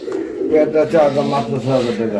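A male and female pigeon pair offered for sale coo repeatedly in low, throaty rolls, close by, while someone speaks over them almost continuously.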